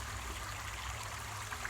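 A stream in Ohio rushes and trickles steadily nearby during gold panning, a constant watery hiss with a low churning rumble underneath.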